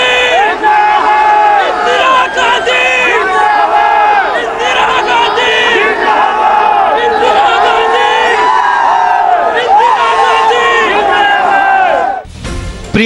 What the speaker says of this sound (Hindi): एक बार फिर भीड़ से आवाज आई